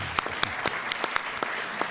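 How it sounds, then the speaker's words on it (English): Audience applause at a formal political event, a brief spell of steady hand clapping with distinct individual claps, moderately close and without talk. "We applaud you, Mike."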